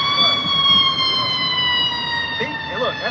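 An ambulance siren wails steadily with layered rising tones, loud and close, running the whole time under faint background murmur.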